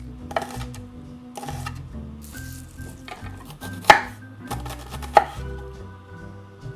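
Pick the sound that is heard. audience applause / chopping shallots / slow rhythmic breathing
chopping shallots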